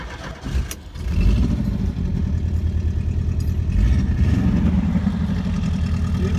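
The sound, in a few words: Westy van engine running with holes in muffler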